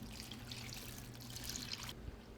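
Water poured carefully from a container over salted cabbage in a bowl while making kimchi, a steady soft trickle running throughout, close and fairly quiet.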